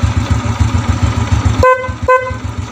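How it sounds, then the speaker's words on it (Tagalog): A car horn wired through a relay and a three-way toggle switch blasts twice in short loud bursts over a rumbling idling engine, the second honk following half a second after the first. "Pag binaba mo, horn natin."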